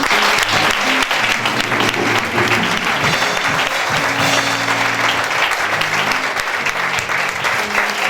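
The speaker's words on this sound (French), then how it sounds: "Acclamez pour vous-même" An audience at a religious gathering breaks into sustained, dense applause, loud and continuous throughout, with a faint cheer or voice mixed into the clapping.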